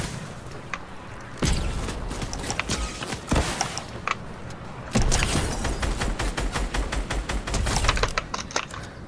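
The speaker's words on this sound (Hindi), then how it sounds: "इसको तो हम तोप के गोले से मारेंगे" Rapid cracking shots from a cannon in Fortnite ring out in close, loud bursts, first scattered and then in a fast repeated volley, with no talking.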